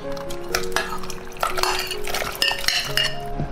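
Soaked Sichuan peppercorns go into a pot of simmering corn soup, with close clinks of a utensil against the pot and light stirring scrapes over a few seconds.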